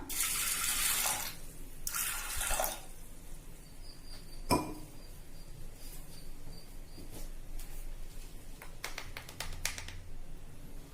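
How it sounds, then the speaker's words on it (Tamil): Water runs into a pressure cooker holding soaked green gram in a home kitchen, with bursts of splashing pouring near the start, a sharp clank midway, then quieter trickling and small knocks. "இப்ப இதை குக்கர்ல போட்டிருக்கேன். கொஞ்சமா தண்ணி விட்டுக்கலாம்."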